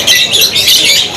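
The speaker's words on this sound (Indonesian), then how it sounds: "Untuk burung-burung kenari dan burung lakbet yang tersedia di sini, burung kenarinya banyak banget" Canaries at a bird shop kiosk chirp and trill loudly and close by, a continuous high, bright warbling that runs without pause.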